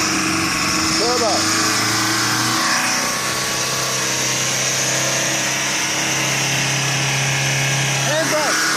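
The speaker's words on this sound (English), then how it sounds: "The key feature of a runaway diesel engine is that it keeps running even after the ignition is turned off." A runaway diesel engine revving out of control, burning leaked oil instead of fuel and refusing to shut off: a loud, sustained roar with a strained high whine that holds steady throughout.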